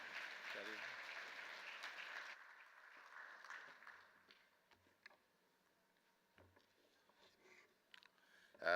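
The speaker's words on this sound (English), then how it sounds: "More round of applause, please." Conference audience clapping at the opening session of a scientific computing meeting, steady applause for about two seconds that fades into scattered claps and hall noise, with a voice speaking faintly over it.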